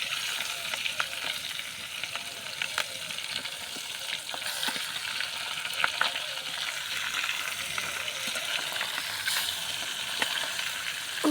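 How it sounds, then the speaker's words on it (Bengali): Fish frying in hot spattering oil, a continuous dense sizzle with scattered pops and crackles, close and steady, no voices. "আমি মাছটা ভেজে নিই"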